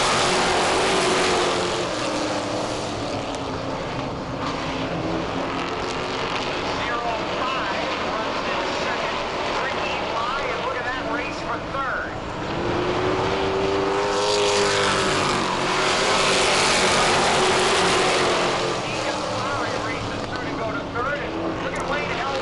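Race cars lapping a short oval track, a continuous roar of multiple engines with rising and falling pitch sweeps as cars pass, under steady commentary talk throughout.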